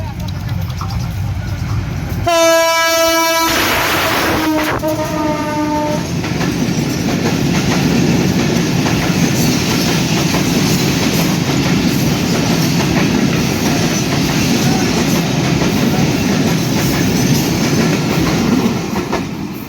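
The 731 Up Barendra Express rumbles into Santahar railway junction on line 1 with rolling, clattering wheels, and a loud horn blast sounds early on before the steady rumble continues.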